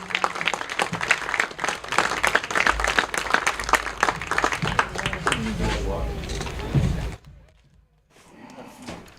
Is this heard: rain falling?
no